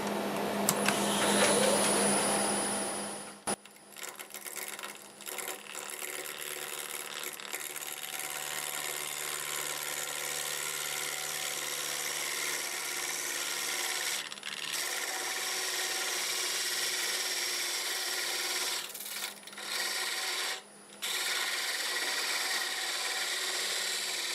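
Steady whirring hum of a wood lathe spinning a bowl blank while a turning tool scrapes and cuts the wood, continuous and close, with a few brief dips where the tool lifts off.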